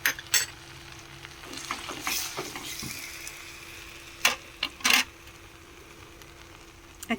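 Onion and green chilli paste frying in a pan, with a steady sizzle and several sharp scrapes and knocks as a spoon stirs it, close and clear with no talking.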